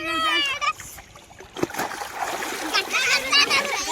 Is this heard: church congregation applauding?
no